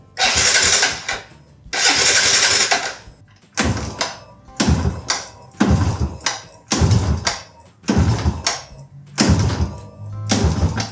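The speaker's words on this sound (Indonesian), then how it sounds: "Oke, saatnya kita nyalakan." Repeated attempts to start a Yamaha Jupiter Z1 motorcycle engine after throttle body and manifold cleaning: two long bursts followed by a string of shorter cranking pulses, close and loud, with no speech.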